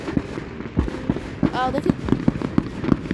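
Fireworks burst close by at a Fourth of July celebration, a rapid series of loud sharp cracks and pops with a whistling streak mid-sequence, while a person exclaims briefly.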